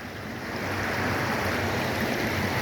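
Spruce Run near Glen Gardner, New Jersey, grown to river size, rushes steadily in a broad, continuous wash of flowing water, close and fairly loud with no gaps, and no voices.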